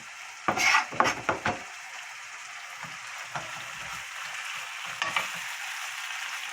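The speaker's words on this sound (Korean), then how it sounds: "김치를 이렇게 볶을 때는 어, 국물도 있으니까 식용유를 좀 넉넉히 둘러요" Kimchi is stir-fried in a pan, opening with a few loud spatula scrapes and clatters, then settling into a faint, steady sizzle with light stirring taps, no voices.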